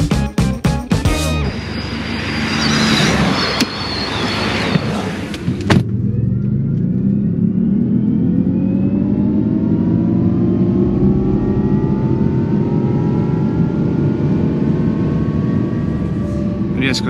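A steady hum of tires rolling on pavement inside a quiet Jaguar I-Pace electric car, with a faint rising electric whine and occasional voices speaking over it.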